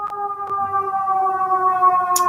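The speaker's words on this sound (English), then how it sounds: "There's another siren." A steady, sustained siren tone holds at a constant pitch, clear and fairly loud, with a faint rumble beneath it.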